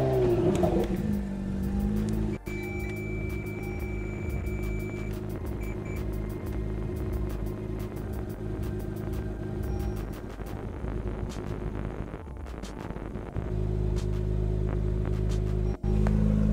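A 700 hp 2017 Acura NSX with a custom exhaust, louder than the stock system, idles and revs: a deep, steady rumble with a sharp rev early on and another burst of throttle later, close by and alone.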